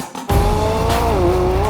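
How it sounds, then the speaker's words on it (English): Loud exhaust note of a McLaren 600LT Spider kicks in abruptly after a brief quiet moment, then holds a steady, rasping roar with a slight pitch dip and rise, close and dominant with no talk. "You have got to love a loud, hairy-chested exhaust, haven't you?"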